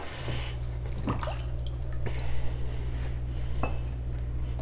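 Water drips and trickles as sharpening stones are lifted out of a lapping plate holder in a kitchen, a few soft splashes and drops over a steady low hum, close by.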